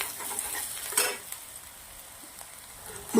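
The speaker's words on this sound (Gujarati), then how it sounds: "ડુંગળીને સરસ સાંતળી લેવાની છે।" Finely chopped onions sautéing in ghee in a pan: a steady, close sizzle with faint stirring scrapes and a few light clinks of a utensil.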